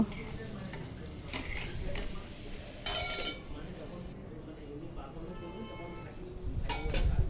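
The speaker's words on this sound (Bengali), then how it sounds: "কুমড়ো দিয়ে ভালোভাবে কষিয়ে নেব।" Pumpkin and potato sautéed together in a pan for a vegetarian ghonto: soft sizzling with scraping stirs and occasional utensil clinks against the pan, while a voice speaks over part of it.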